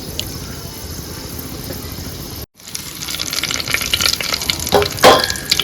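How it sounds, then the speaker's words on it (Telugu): Two dried red chillies hit hot oil in a pan as tempering for a tomato dal, a steady loud sizzle with a brief gap and then stronger crackling and spitting. "ఆయిల్ వేడెక్కిందండి. 2 ఎండుమిర్చి వేద్దాం."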